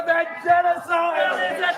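Protesters shouting within a crowd at a live event, several raised voices calling out together in loud, strained bursts across the whole moment.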